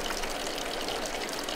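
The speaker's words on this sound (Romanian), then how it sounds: "Cascada curge frumos." A waterfall flows in a steady, bright rushing hiss, a continuous close wash of falling water with no voices or other sounds.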